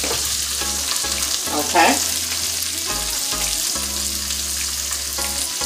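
Shiitake mushrooms stir-frying in a pan produce a steady close sizzle and occasional scraping from stirring, with a low background hum and a brief spoken word.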